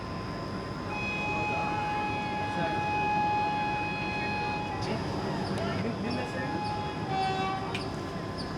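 Train 06281 Mysuru Madar Special pulls out of a station with a steady rumble of wheels and engine, while tonal hums and brief squeals rise near the end against background noise.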